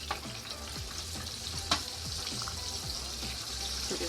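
Chicken wings sizzle steadily in oil over low heat during their second fry, a continuous close crackle with a few utensil clicks and faint water-like sounds.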